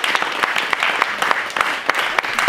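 Applause for two recipients of the Federal Cross of Merit at a ceremony, a steady wash of clapping from an audience with individual claps popping out, continuous and fairly loud throughout.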